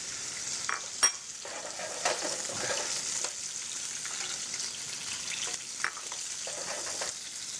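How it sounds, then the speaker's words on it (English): Black tiger prawns fry in hot oil with a steady, bright sizzle, heard close, broken by a few sharp pops and light stirring clicks. "we're gonna cook the shrimp about 15 seconds on each side first"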